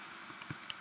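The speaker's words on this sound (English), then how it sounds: "And we're going to type the text" Keys clicking on a computer keyboard as text is typed, a quick run of soft, close taps spaced a tenth of a second apart with a few louder strokes.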